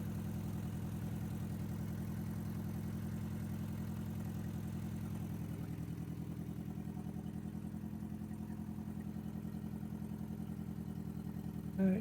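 A drift car's engine idles steadily at close range, a low rumbling throb that stays even and unbroken throughout with no voices.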